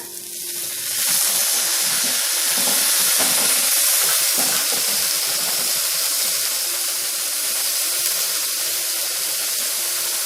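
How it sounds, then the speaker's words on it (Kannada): A steady, loud sizzle of tomatoes frying in hot tempering oil with garlic and ginger starts after a brief pause and continues evenly throughout, with no talking. "ಒಗ್ಗರಣೆ ಬೆಂದಿದೆ ಟೊಮೆಟೊ ಹಾಕೋಣ"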